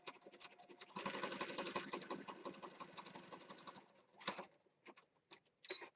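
A sewing machine runs in a steady rapid ticking burst, stitching decorative edges on a mixed-media Christmas junk journal page, close and fairly quiet, followed by a few shorter bursts as the page is turned.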